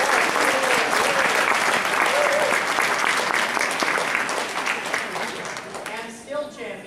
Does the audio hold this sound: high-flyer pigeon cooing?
no